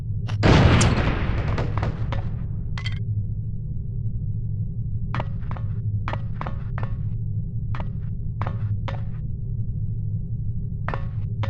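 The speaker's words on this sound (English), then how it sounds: "These relatively inconspicuous-looking lipsticks are actually powerful explosive devices that detonate on impact." A lipstick explosive from No One Lives Forever detonates with a single loud boom that decays into a low rumble, followed by scattered sharp clicks and taps over a steady hum.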